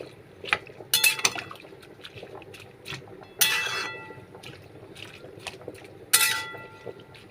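Food being stirred in a cooking pot, with a few bright metallic clinks of a utensil against the pot amid soft wet scraping and quiet background noise.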